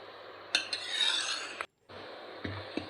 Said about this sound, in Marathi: तर हे सर्व हलवून घ्यायचे पीठ